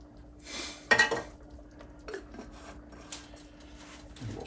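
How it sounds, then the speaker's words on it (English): A spoon scrapes and clinks around a pot while honey is stirred into tomato soup, with a clatter of utensil against metal near the start and softer, sporadic scraping after, close by and fairly quiet. "we'll stir that around"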